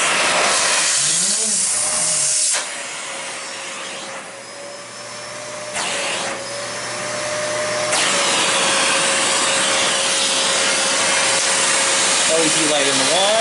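Kenmore 81214 200 Series bagged canister vacuum cleaner running with a loud, steady whine and airy hiss. The pitch and loudness dip for a few seconds and then recover, with a voice talking over it.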